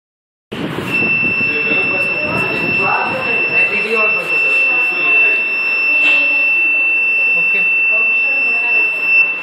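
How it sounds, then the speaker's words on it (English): A gas-sensor alarm buzzer on a student electronics project sounds a steady, loud, continuous high-pitched electronic tone, with a second fainter tone above it, holding for about nine seconds while people talk in the background. "as soon as the sensor detects the gas, it blows up the LED and also the buzzer"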